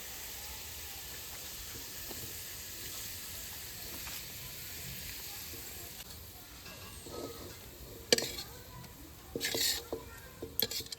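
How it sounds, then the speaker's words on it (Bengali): A soft, steady sizzle of onions frying in oil in a wok fills the background, with a few clinks and clatters of cookware toward the end. "বেরেস্তা ভাজা হয়ে গেছে আমি তুলে নেব"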